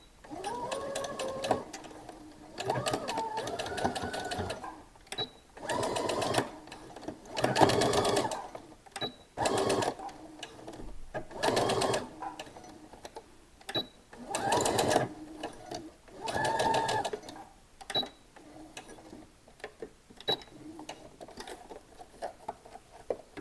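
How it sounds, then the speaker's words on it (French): A sewing machine stitches back and forth across a flared skirt in repeated short bursts, close and clear, with brief pauses between runs and a voice talking softly in between. "je fais des allers-retours pour être sûr de bien le coudre"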